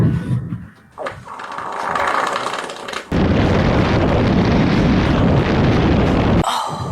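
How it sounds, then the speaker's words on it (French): Strong wind gusts buffet a microphone outdoors, first in a rough, uneven rumble, then in a loud, steady roar that stops abruptly near the end. "cette fois-ci, on a du vent"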